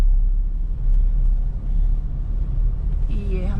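Mahindra Scorpio engine running while driving in third gear after a U-turn, a steady low rumble close inside the cabin that continues throughout without break.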